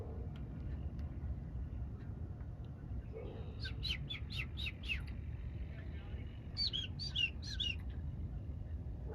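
A small blue swallow chirps in two short bursts of rapid tweets from a sailboat under autopilot, over a steady low rumble of wind and water, with people talking nearby.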